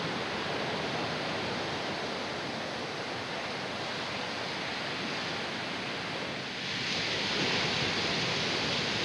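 Continuous roar of surf with waves breaking, a broad steady wash that swells slightly louder toward the end.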